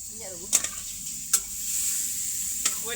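Chicken pieces sizzle steadily in a hot pan while being fried for a chicken curry, with a few sharp stirring scrapes and clanks over the constant hiss.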